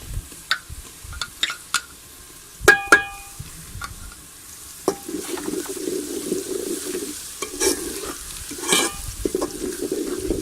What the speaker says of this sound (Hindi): अब हम इसमें लहसुन अदरक का पेस्ट डालेंगे।